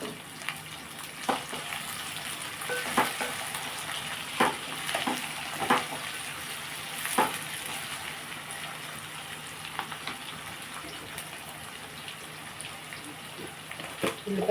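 Dried red chillies frying in a pan while making upma, a steady soft sizzle with scattered sharp crackles and pops throughout, close by, with no talking.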